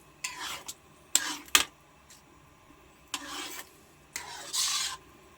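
Spaghetti sauce with sliced hotdog being stirred in a pot, heard as several short scraping, rasping strokes in separate bursts with quiet gaps between them, close and fairly soft, with no talking.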